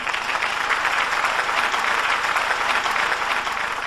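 Steady, dense applause from an audience at an NRI of the Year awards ceremony, broad and sustained throughout with no talk over it.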